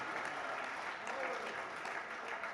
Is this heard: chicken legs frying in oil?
no